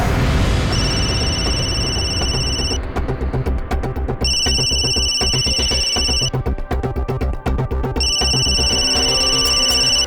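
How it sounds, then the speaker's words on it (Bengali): A telephone rings loudly in a Bengali crime drama scene, repeated electronic ring bursts separated by short gaps, set over a dense, rumbling music bed. "ফোনটা ধরুন।"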